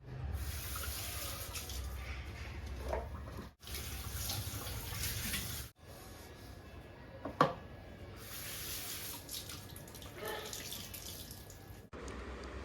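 Dishes are rinsed under a running kitchen tap, the water flowing softly in stretches that cut off abruptly several times, with a few faint clinks between the bursts of flow.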